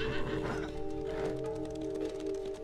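A horse neighs in the video game Apotheon, a loud whinny over steady game music with faint hoof clatter.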